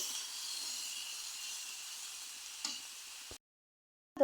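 Bottle gourd leaves with flat beans stir-fry in a pan as a steady, soft sizzling hiss that cuts off abruptly near the end.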